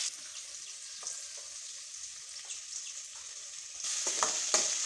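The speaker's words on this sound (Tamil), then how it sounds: "இப்போ கடுகு பொரிஞ்ச உடனே வெங்காயம் சேர்த்துக்கலாம்" Onions fry in hot oil with popped mustard seeds and lentils for a vendaikkai fry, giving a steady close sizzle with faint stirring scrapes that grows louder and brighter toward the end.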